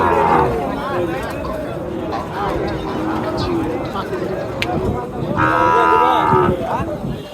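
Sahiwal heifers at a busy cattle market in Naogaon moo loudly and close by, with long drawn-out calls rising over crowd babble and people talking nearby.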